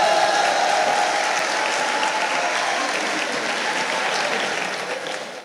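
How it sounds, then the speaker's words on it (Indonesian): A crowd at an Indonesian student cabinet accountability report applauds together in dense, loud, steady clapping that holds for several seconds before tapering off at the end. "Tepuk tangan untuk kita semua"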